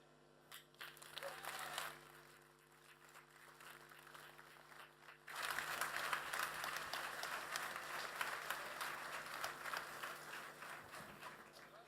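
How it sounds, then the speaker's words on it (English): An audience applauds to welcome a speaker, starting as scattered claps that swell after about five seconds into steady, full applause, with the clapping sounding moderately distant in a hall. "let's welcome Joel, not with the Danish style clap clap, but with a big actual applause"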